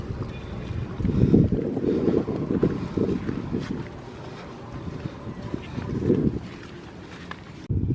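Cold wind gusts outdoors near a grill where a whole two-kilogram piranha is being cooked over coals, a steady rushing roar with louder surges buffeting the microphone.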